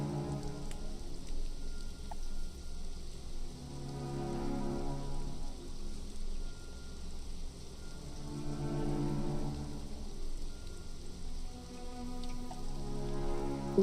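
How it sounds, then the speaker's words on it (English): Steady rainfall in a video game role-play world, a continuous, even patter and hiss of drops on surfaces that gently rises and falls, with no talking. "Does it ever stop raining here?"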